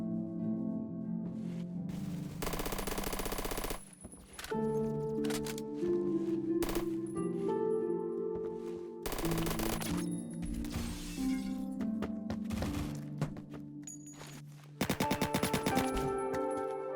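Rapid automatic gunfire in the video game Phantom Forces comes in several loud bursts of varying length, with short gaps between them over game background music.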